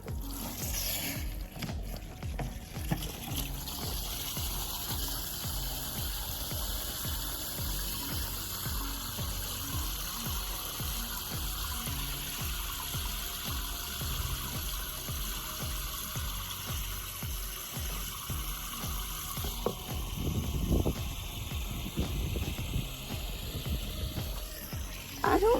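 Garden water runs in a steady, faint hiss with a low pump-like hum beneath it, continuing unbroken for a long stretch, with a few louder splashing bursts near the end.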